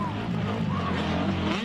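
A motocross bike runs at full throttle, a loud sustained engine roar with rising and falling whine, heard briefly and up close.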